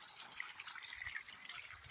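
Liquid is poured from a small container onto the roots of brinjal plants, making a soft, close trickle with scattered light drips that runs steadily and quietly throughout.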